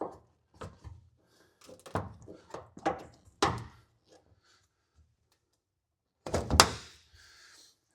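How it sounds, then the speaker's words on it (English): Rear window of an OBS Ford truck being worked out of its rubber seal: a series of dull thunks and knocks, some sharp, spaced irregularly, with a louder cluster of pops near the end, close and otherwise quiet. "that window just wants to kind of pop itself out now that we've got it around the corner"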